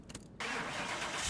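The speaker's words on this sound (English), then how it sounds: "Let's see how good that engine sounds in that lovely interior." Supercharged Chevrolet Delray Custom drag racer firing up, a short crank then the engine catching into a loud, steady, close roar that holds to the end.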